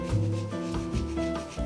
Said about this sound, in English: Rub some salt and pepper.